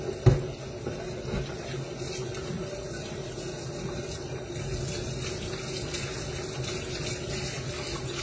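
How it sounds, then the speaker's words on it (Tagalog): A plate rinsed under a running kitchen tap, with a steady broadband rush of flowing water throughout, a brief knock near the start, and no talk. "Hugasan ko lang po yung plato."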